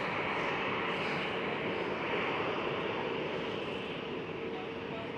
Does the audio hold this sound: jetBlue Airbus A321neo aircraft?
yes